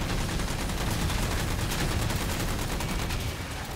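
Rocket hog firing at the player in Halo 4: a loud, unbroken stream of rapid automatic gunfire and booms, steady throughout the few seconds with no talk.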